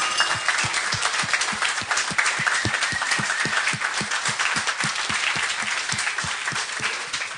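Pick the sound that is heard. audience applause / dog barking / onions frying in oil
audience applause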